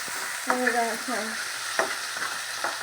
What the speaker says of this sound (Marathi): टॅमॅटो जरा नरम करून घ्यायचा व्यवस्थित असा, जरा 2 मिनटं असा नरम होईपर्यंत फिरवून घ्यायचा चांगला.